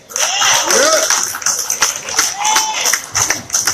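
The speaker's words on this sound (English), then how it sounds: "Give yourself a round of applause for being here." Audience round of applause at an Ohio Kwanzaa celebration, scattered claps and crowd noise rising and falling through the stretch, with voices calling out and talking over it.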